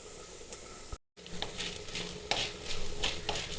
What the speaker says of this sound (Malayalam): ഇനി ഇതിലേക്ക് കുറച്ച് ഉഴുന്ന് പരിപ്പിടാണ്